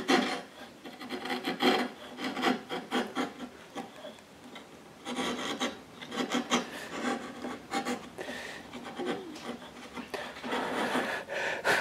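Steady back-and-forth rasping of a file or rasp over wood, cleaning saw marks off a hand-cut dovetail joint; close, rhythmic strokes in bursts with brief pauses, no talk.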